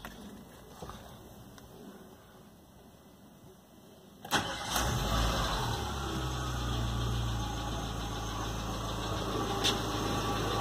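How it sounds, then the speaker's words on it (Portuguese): A Renault Logan 1.0 16v engine with a sports air filter cranks and catches with a sudden roar, then settles into a steady, rumbling idle close by. "Ligar o carro para ver como é que ficou"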